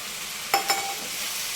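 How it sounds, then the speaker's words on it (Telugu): Homemade paneer cubes tipped into a mixed vegetable curry in a pan, giving two quick soft clatters then a quiet stir over a low background hiss. "ఇప్పుడు ఇందులోకి మనం పన్నీర్ వేసేసుకుందామండి. ఇంట్లో తయారు చేసిన పన్నీర్ ఇది."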